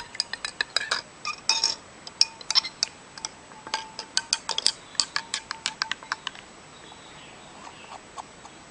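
A utensil tapping and clinking against a container while stirring a detergent solution with added ink, a quick irregular run of sharp ticks that thins out and fades near the end.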